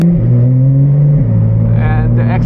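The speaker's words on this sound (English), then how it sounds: "And the exhaust is just noisy even with the valves." Loud, throaty exhaust of a VAD GT3 R project car drones steadily at close range, its engine note dipping slightly partway through, with a voice talking over it near the end.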